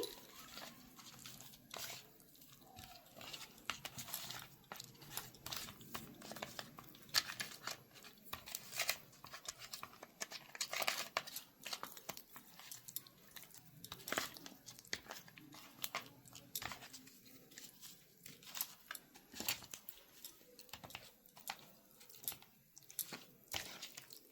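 Pieces of rohu fish are worked by hand with salt and turmeric, giving soft, wet squishing and squelching sounds with faint crunchy rustles. They are quiet and close, with no talking.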